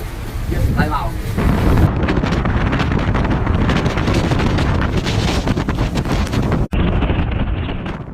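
Typhoon Matmo's powerful wind roars and buffets the microphone in sustained heavy gusts in southern China, loud and close, with no pause throughout.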